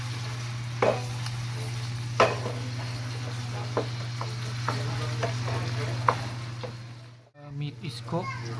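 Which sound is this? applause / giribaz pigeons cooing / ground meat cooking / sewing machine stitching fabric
ground meat cooking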